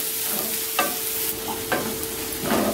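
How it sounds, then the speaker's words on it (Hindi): Onions being stirred and fried over a medium flame for a dhaba-style Punjabi mixed tadka dal, with a constant sizzle broken by a few scraping spoon strokes, close up. "इसको तीन मिनट तक प्याज को भूनेंगे जब तक ब्राउन ना हो जाता है"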